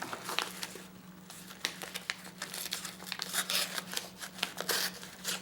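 A new blade slicing through crinkly material, quiet irregular bursts of crackling and tearing, close and faint, with brief pauses between cuts.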